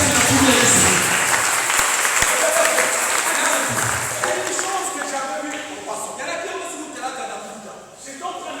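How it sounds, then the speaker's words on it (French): A church congregation at a Sunday service claps and cheers loudly, the dense applause gradually fading while voices and music rise beneath it. "Est-ce qu'on peut m'acclamer?"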